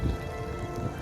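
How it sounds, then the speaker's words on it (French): Heavy rain pours down in a dense, steady hiss during a fierce storm in Newfoundland, loud and close with no pauses. "Pourquoi est-ce qu'il pleut comme ça là?"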